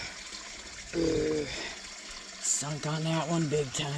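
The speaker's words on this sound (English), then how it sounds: "I hear waterfall this way." A waterfall runs outdoors as a steady broadband rush of falling water at moderate distance, partly masked by people talking over it.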